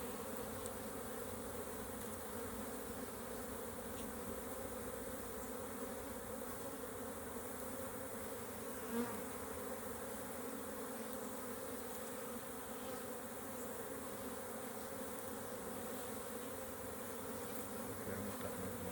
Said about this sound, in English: That one doesn't look like a honeybee. Sometimes other bees come and they try to rob from them.